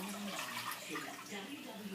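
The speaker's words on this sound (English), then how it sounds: "I'm going to add a little over 2 cups of water" Tap water runs steadily into a cooking pot in a kitchen, a continuous soft rushing splash heard close and fairly quiet.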